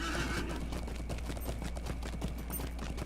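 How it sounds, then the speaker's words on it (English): A horse mount in the Lord of the Rings Online game trots at a brisk pace, its rapid hoofbeats clopping in a steady rhythm. A whinny sounds near the start, and there is no talking. "this horse is a different sound animation than regular horses have"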